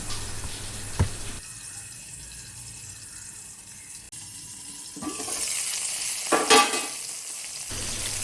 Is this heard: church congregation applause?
no